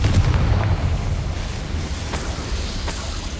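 A Confringo fire spell blasts off in the Hogwarts Legacy video game, a loud booming explosion with a heavy low rumble that carries steadily through the moment, with a few sharper cracks layered on top.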